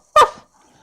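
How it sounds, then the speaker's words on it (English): A dog named Fido gives a single loud, close bark on command, a short sharp woof that fades quickly into quiet. "Fido barks"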